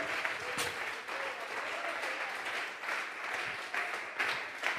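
A church congregation at a Sunday service claps in sustained applause as an offering of praise, a steady, fairly distant wash of many hands with a few louder bursts.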